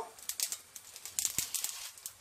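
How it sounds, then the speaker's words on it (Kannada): Mustard seeds spluttering in a couple of spoonfuls of hot oil for a tempering, a quiet scatter of sharp pops and crackles at an uneven rhythm, close by, with no voices. "ಸಾಸಿವೆ ಸಿಡಿತಾ ಇದೆ"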